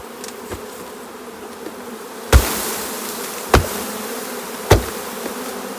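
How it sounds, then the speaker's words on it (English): Loud, dense buzzing of a honeybee swarm, punctuated by three sharp thumps as the bees are shaken into a box. "We're going to shake a lot of bees into this box."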